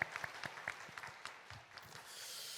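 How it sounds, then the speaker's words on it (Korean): A church congregation claps faintly at a Sunday worship service to bless a newly married couple, with a short spatter of separate claps that thins out within a few seconds. "우리 큰 박수로 우리 축복하겠습니다"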